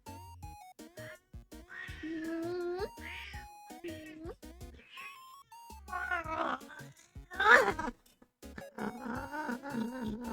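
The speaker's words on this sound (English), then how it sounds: "What a adorable cat sound." A pet cat gives a series of short, squeaky meows and chirps indoors, close by, interleaved with a person speaking softly to her.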